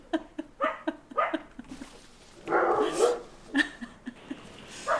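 A pet dog barks in a rapid series of sharp yaps, then lets out a longer whining howl and a few more barks, fairly close and loud with nothing else over it.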